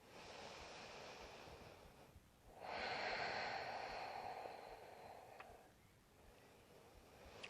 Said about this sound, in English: So if you're breathing in for a count of 3, you'll breathe out for a count of 6.